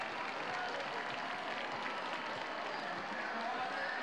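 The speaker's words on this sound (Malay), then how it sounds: "diberikan tepukan gemuruh oleh penyokong-penyokong ataupun penonton-penonton yang hadir di stadium" Spectators in a stadium applaud steadily after a men's 5000 m athletics final, a broad, even wash of clapping and crowd noise with a commentator's voice running over it.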